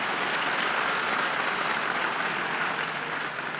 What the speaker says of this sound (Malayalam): ഒന്ന് കൈയടിച്ച് കർത്താവിനെ മാറ്റി